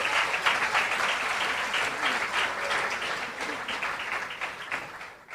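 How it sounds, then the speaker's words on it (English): A crowd applauding steadily at an awards ceremony, dense clapping that holds at an even, fairly loud level for several seconds with no voices standing out. "do deserve another round of applause"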